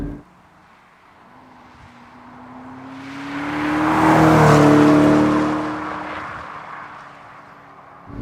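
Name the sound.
McLaren 650S Spider supercar driving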